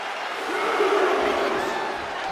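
A wrestling arena crowd in the WWE 2K25 video game swells in a sustained roar of cheering, building slightly and holding steady for a couple of seconds.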